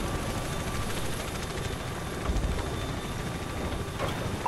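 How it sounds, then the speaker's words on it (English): Helicopters flying in during a Call of Duty: Ghosts battle at sea, a steady low rotor and engine drone holding at constant loudness throughout, dense and close with no voices over it. "Choppers are inbound"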